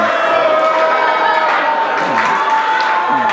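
Pro wrestling arena crowd roaring and cheering steadily throughout, with scattered clapping and shouts mixed into the dense noise of the audience.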